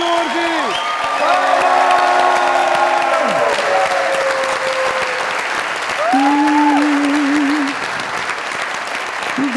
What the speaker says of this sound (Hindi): आप लोगों की ढेर सारी तालियों में